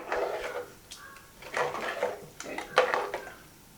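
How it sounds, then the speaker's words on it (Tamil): A spoon scrapes and clanks against a metal pot of mutton curry in several short bursts, close up, with soft bubbling between the strokes. "இது நல்லா கிளறி விட்டுடலாம்"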